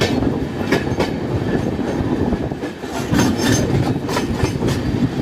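The Tamil Nadu Express runs past on its rails, a steady loud rumble of wheels with rhythmic clickety-clack beats over the track joints and a faint hint of wheel squeal.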